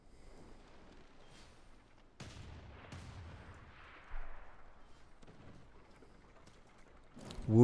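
Bombards in a strategy game fire artillery in several muffled booms and thuds against a low background rumble, ending in a louder blast, with a quiet voice speaking between the shots.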